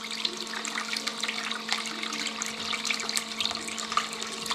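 Water running off a mini gold concentrate cleanup sluice, a steady close trickle and splash that flows continuously with small bright spatters over a constant wash.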